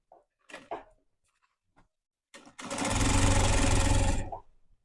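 A sewing machine runs in one steady, loud burst of about two seconds, stitching gathers into saree fabric for a ready-to-wear belt saree. Before it starts there are a few soft handling taps and rustles.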